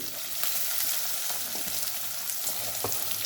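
Dill greens frying with onion and garlic in a pan over a medium flame, a steady close sizzle with a few soft stirring scrapes and no talking.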